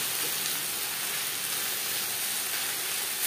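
Drumstick leaves with coconut sizzle in a pan over high flame, a steady soft hiss of frying heard close without any talk.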